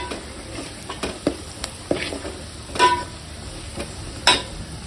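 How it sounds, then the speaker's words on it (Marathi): Onion sautéing in a pan with turmeric and masala, a soft sizzle beneath repeated scraping and stirring strokes of a utensil, with occasional light clinks against the pan, close and steady, no voices. "त्याला सुद्धा कांद्यामध्ये थोडा परतून घ्यायचा आहे"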